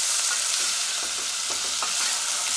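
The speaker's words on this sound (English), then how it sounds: "The sizzling is just amazing." Loud, constant sizzling of stuffed-pepper vegetables frying in a pan aboard a narrowboat, with occasional scraping knocks as they get stirred.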